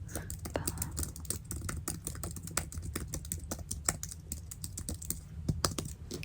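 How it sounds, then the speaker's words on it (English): Someone writes a note in an ASMR catalogue-shopping session, producing a steady stream of close, crisp little taps and clicks that continue for several seconds over a low background hum, with no talking. "I'll write this down."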